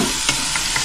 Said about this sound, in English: we're going to brown the oxtail on both sides